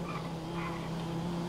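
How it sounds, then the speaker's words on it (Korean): Car driving and skidding in GTA 5, a steady engine drone with a sustained tire-squeal tone, fairly faint and continuous with no talk over it. "차 소리가 너무 크잖아, 이거"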